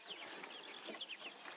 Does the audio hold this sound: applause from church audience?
no